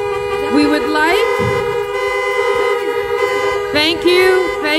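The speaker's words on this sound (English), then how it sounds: "hold your honking" Car horns honk in sustained, overlapping blasts at a 2020 drive-in graduation, some long and steady, others short toots, while a voice speaks over a loudspeaker.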